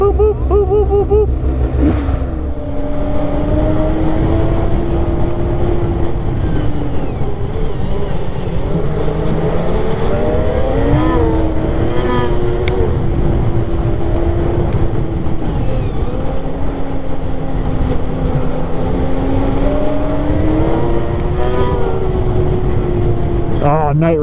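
Polaris Titan S4 snowmobile riding at night on a trail, its engine droning loud and close throughout with rising and falling pitch as it speeds up and eases off, wind buffeting the microphone.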